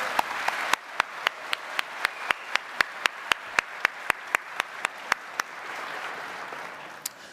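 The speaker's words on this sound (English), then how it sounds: "So thank you very much for that applause." An audience at a university graduation ceremony applauds in a hall, a sustained wash of clapping with one person's sharp, regular claps standing out near the mic before the applause fades.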